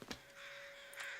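Crows give two quick caws in The Long Dark, a video game, over a faint constant tone in the game's wilderness ambience.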